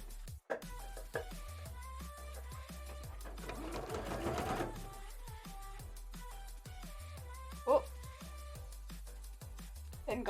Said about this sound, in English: let's get this bit sewn on